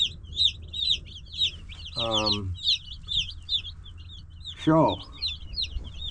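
Baby chicks under heat lamps keep up a steady stream of high, quick peeping chirps throughout, while a person speaks briefly over them twice.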